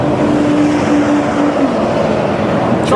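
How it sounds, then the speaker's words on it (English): A loud truck passing close by outdoors, a steady heavy engine roar that fills the whole stretch with a slight shift in pitch partway through. "Someone tell that truck to be quiet."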